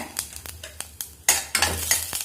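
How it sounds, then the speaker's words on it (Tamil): Fennel and mustard seeds fry in a pan for peas masala, a spoon scraping and stirring in short clattering bursts over a crackling sizzle that grows louder toward the end, with no voices. "நல்லா ஃப்ரை ஆகட்டும்."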